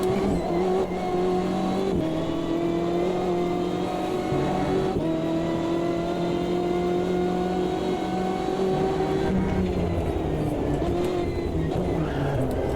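A race car engine drives in the sim racing game Automobilista 2, loud and continuous, its pitch rising through the gears with brief dips at the shifts and a steady high whine over the rumble.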